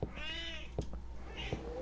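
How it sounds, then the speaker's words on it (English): A cat meows twice, a pair of clear rising-falling cries separated by a short pause, fairly faint and alone with no talk. "That's not a baby, that's a cat."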